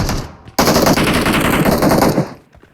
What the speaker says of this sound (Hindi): 2-3 जगह से फायर साउंड आता है